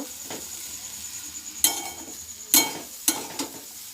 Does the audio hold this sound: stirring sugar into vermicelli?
yes